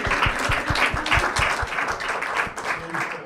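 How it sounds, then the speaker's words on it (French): Audience applause at a local journalism debate event, steady dense clapping throughout with a faint voice underneath. "Je pense qu'on peut applaudir et saluer."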